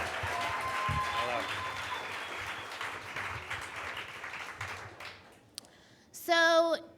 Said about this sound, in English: keep that wonderful applaud going for Rati Gupta.